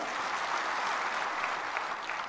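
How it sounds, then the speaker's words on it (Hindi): Audience applause in a hall at a state-level panchayat conference in Panchkula, Haryana: a steady, dense wash of many hands clapping at even loudness for a couple of seconds, with no voices over it. "एक बार मेरी बात को स्वीकार करते हुए तालियां बजाइएगा।"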